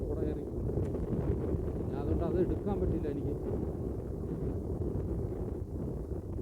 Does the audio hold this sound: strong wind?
yes